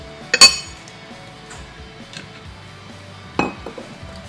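A metal spoon clinks against a bowl while oyster sauce is measured into raw beef, two sharp bright clinks about three seconds apart, close and otherwise quiet.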